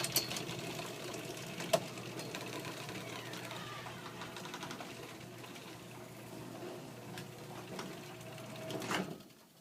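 Old Stanley 1/3 horsepower garage door opener closing, a steady, fairly quiet motorized mechanical drone running for several seconds, with a few clicks and a louder clunk near the end as it stops.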